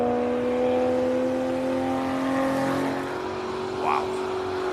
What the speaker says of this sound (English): Oh, listen to that, Porsche.